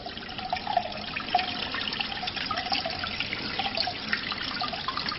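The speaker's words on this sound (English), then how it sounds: "that's where that water is just running right in there" Water pours steadily into a basement, likely seeping from a pit outside where a pool used to be, making a continuous close rushing and trickling wash with no break and no voices.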